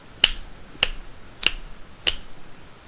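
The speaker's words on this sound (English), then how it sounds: "Now snap 4 times." Four crisp finger snaps, evenly spaced about half a second apart, close and clear against a quiet background with no talking.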